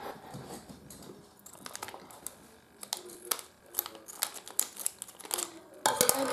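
Scissors snip and crinkle open a plastic Lego minifigure blind bag from series 14, a string of small close clicks, cuts and crinkling plastic rustles with no talk.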